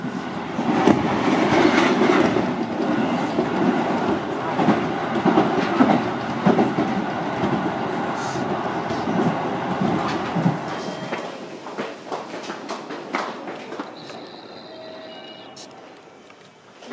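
A local train rumbles past at a station, loud clattering and rail noise filling the first ten seconds before fading as it moves away, leaving quieter ambience with a brief high tone near the end.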